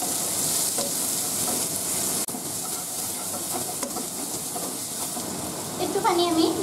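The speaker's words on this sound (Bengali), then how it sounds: "আমি এবার দিয়ে দেবো দুটো মিডিয়াম সাইজের পেঁয়াজ কুচি। পেঁয়াজটা একটু ভেজে নেব।" Chopped onion, two medium onions with a pinch of salt, fries in a pan with a soft, steady sizzle and hiss, broken by a couple of sharp utensil clicks against the pan.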